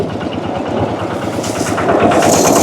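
A tractor engine runs during rice threshing on a Thai farm, giving a steady, loud, close mechanical rumble with no pause.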